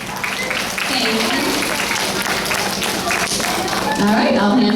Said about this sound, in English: let's give a warm welcome and a round of applause to our third grade performers today